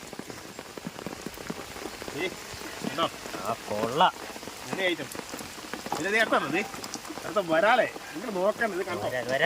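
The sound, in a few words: heavy pouring rain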